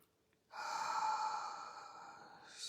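A single slow, deep inhalation through the nose during a quiet devotional practice, rising suddenly after a brief silence and sustained as a soft airy rush, close and fairly quiet.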